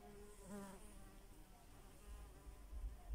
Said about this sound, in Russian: У меня здесь еще пчелка летает,